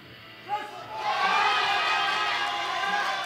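A crowd at a junior world powerlifting championship applauds and cheers Japanese lifters, a broad swell of clapping rising after a brief sharp sound and holding steady as distant noise.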